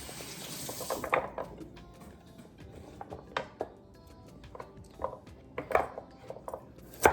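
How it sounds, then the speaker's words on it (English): A kitchen knife cutting baby carrots for Jamaican pumpkin chicken soup, giving scattered sharp clicks and taps on a board at an irregular pace, close and fairly quiet, with faint clatter around it. "next we're gonna cut up the carrots"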